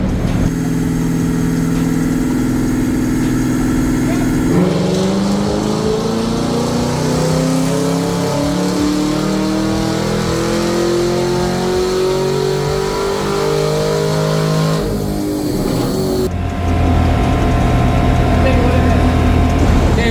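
A car on a dynamometer runs through back-to-back pulls, its engine droning steadily and climbing in pitch as it revs up, dropping back, then surging again. The sound is loud and continuous throughout, with no pauses.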